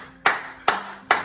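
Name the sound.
hand clapping applause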